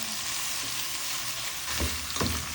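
Roasted chicken being re-cooked in a pan gives a steady broadband frying sizzle throughout, with a couple of louder stirring scrapes or bursts near the end and no talking.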